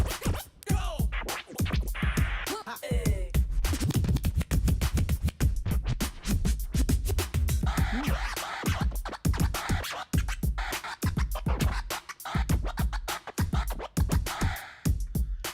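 A Pioneer DJ DDJ-REV7 controller plays its built-in scratch sound effects, loud and up close, as a constant stream of rapid back-and-forth scratch strokes with no talking over them.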